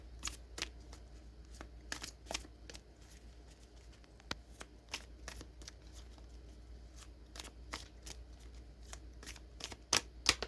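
Oracle cards being shuffled by hand in a quiet room, with a steady run of soft papery riffles and sharp flicks, some louder snaps near the end, close up and alone.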